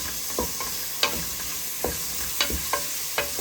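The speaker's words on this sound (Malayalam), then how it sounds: "സോട്ട് ചെയ്യാം." Crushed ginger and garlic, about one and a half tablespoons, sauté in a pan for a Kerala-style beef dry fry, with a soft continuous sizzle broken by a series of sharp spatula clicks and scrapes at an uneven rhythm.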